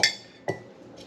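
Metal lids set onto glass canning jars of homemade chicken broth, two bright clinks about half a second apart and a softer third touch, close and clear with no voices.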